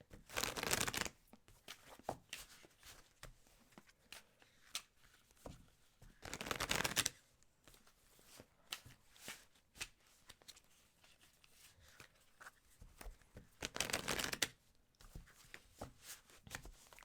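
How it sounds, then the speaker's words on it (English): Lenormand cards riffle-shuffled by hand in three loud bursts, with softer handling, tapping and card slides between them, close and alone. "I have to shuffle?"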